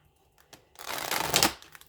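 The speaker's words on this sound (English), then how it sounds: "Let's get a few more shuffles on this" A brief, close riffle of tarot cards being shuffled, a soft start building into a dense papery flutter for under a second before trailing off, with no talking.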